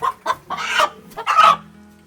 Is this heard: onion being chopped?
no